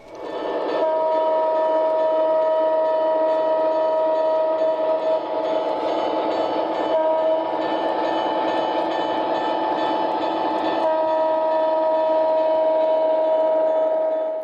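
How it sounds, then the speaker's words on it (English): A train rumbles steadily past up close beside the inn at Walton, a spot with nearly 40 trains a day, loud and continuous, with a sustained horn tone ringing over the rolling clatter. "Nearly 40 trains a day run past the inn"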